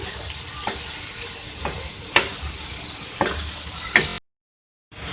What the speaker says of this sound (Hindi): अब मैं इसमें ऐड करूँगी धनिया और पुदीना, इसको मिक्स कर लेंगे